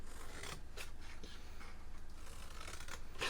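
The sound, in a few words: cutting a sliver off paper for an elf cake treat bag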